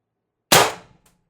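A single sharp shot from an Umarex TR50 air rifle fed by a tether line from a 48 cubic inch tank with an adjustable regulator, a loud close crack that decays over about half a second, followed by a faint tick.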